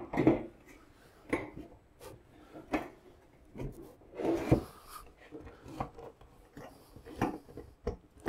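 Wooden flat roof lid for a beehive being set and shuffled into place, giving a series of soft wooden knocks and scraping rubs at close range, fairly quiet.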